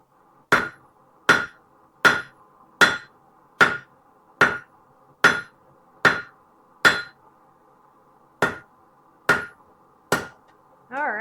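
A smith hammers stainless steel into a fork shape, about fourteen crisp metallic blows landing at a steady pace, close and loud, with a brief pause near the end before a voice starts talking.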